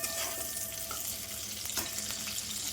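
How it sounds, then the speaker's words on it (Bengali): Cauliflower fries in a pan in a home kitchen, giving a steady, close, crackling sizzle that carries on without a break and with no voices. "এখানে ফুলকপি ভাজা চলছে"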